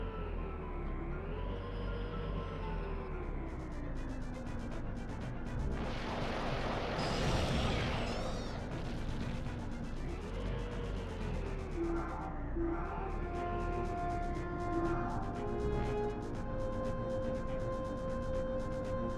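Missiles launching and blasting apart targets in a combat video game, a dense burst of explosions swelling around the middle over a steady whining engine hum, then fading back to the drone.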